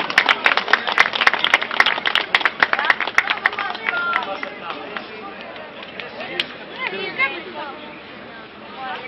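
An audience applauds at the winners' award ceremony of the Letni Puchar Bieszczadów sports event in Zagórz. A dense burst of clapping swells, then thins out and fades, with faint voices underneath.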